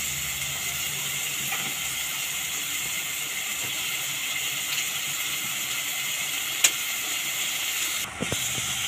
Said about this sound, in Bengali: করম চাটা আমি ভালো করে একটু ভেজে নেব